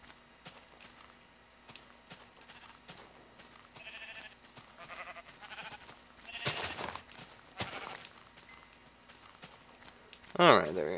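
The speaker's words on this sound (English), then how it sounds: "I guess I can grab and kill a couple of sheep" Sheep bleating in the Minecraft video game: a couple of short bleats rise out of quiet game ambience with soft footsteps, followed by a louder, sharper bleat near the end.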